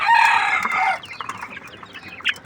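Desi chickens cluck and call nearby on a small farm, a loud drawn-out crow at the start followed by scattered softer clucks and chirps.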